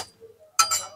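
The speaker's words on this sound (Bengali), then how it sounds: "এখন আমি এই একটা একটা করে ডিম ফাটাবো" An egg is cracked against the rim of a bowl while cooking an egg curry at home, giving a short crisp crack followed by a brief clink, close and alone.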